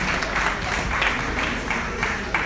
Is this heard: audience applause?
yes